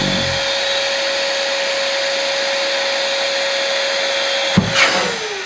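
An electric balloon inflator runs steadily with a constant tonal whine and broad airy hiss, switched by a foot pedal, ending with a brief burst and a falling sweep near the end.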